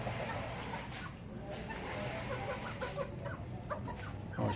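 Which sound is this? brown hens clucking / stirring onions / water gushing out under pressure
brown hens clucking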